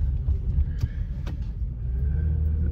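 A truck cruises along a highway with a steady low rumble of engine and road noise, continuous and moderately loud, with a couple of faint brief clicks and no talking.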